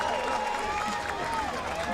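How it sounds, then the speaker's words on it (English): Boxing crowd roaring an ovation for fighter Fernando Angulo at his 2010 bout with Leonardo Zappavigna, a dense steady wall of cheering and clapping with no breaks. "Angulo getting the ovation"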